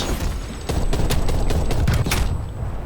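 The Regal Scepter weapon fires in Call of Duty: Black Ops Cold War: a rapid burst of loud, punchy shots in a quick rhythm over continuous game noise.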